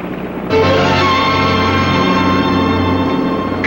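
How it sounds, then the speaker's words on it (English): Boat engines on the open sea start abruptly with a loud, steady low drone and rumble that holds constant to the end, after a quieter opening; no one speaks. "Cut the engines, Ted."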